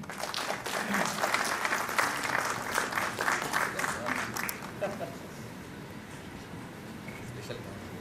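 A crowd at an IGNOU regional convocation ceremony in Srinagar breaks into hearty applause, dense clapping for about five seconds that fades into murmuring room noise, with a voice speaking near the start.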